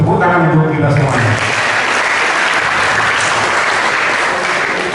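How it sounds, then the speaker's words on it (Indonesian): A gathered audience at a community event bursts into loud, dense applause that carries on steadily for several seconds, with a voice trailing off at the very start. "Tepuk tangan untuk kita semuanya."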